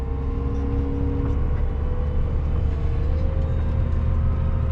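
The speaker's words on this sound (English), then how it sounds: "So me and Dad are hauling with both wheel loaders" A Case wheel loader's diesel engine drones steadily while hauling sand, a loud continuous low rumble with a faint tonal whine and no pauses.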